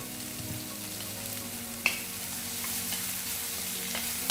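Chopped onions and curry leaves with a pinch of salt roasting in a pan for chicken kurma, giving a steady low sizzle with a couple of faint clicks of stirring, quiet and continuous.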